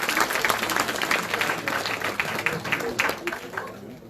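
Audience applause at a closing ceremony, honouring the event's sponsor, Hilton. Many hands clap in a busy, close patter, with crowd noise mixed in and a brief voice underneath. The sound thins and fades toward the end.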